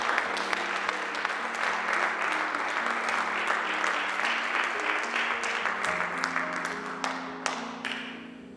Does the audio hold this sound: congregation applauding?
yes